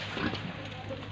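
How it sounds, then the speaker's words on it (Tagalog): A pet pig on a backyard farm gives short, close grunting oinks over a low background hum, with faint talk nearby. "Ito po yung alaga nilang baboy."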